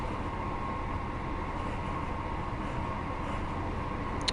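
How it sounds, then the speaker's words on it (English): A ScotRail BR 158 diesel train running in Train Sim World 4, a steady droning engine hum with a constant rumble of wheels at an even level throughout. "the sounds for this train were sourced from Armstrong Powerhouse"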